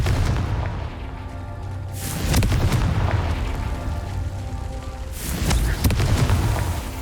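Repeated Confringo spell explosions in the Hogwarts Legacy video game: two loud booming blasts a few seconds apart, each with a bright crackling burst, over a rumbling game soundscape with no talk.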